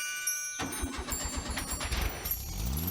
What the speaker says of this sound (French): Magique poussière, faites démarrer cette voiture.